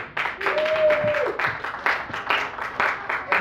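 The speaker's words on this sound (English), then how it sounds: "give a warm welcome and round of applause to Joel Elliott" An audience claps to welcome comedian Joel Elliott at a stand-up comedy show: dense, steady applause close by, with a brief high whistle or whoop rising over the claps early on.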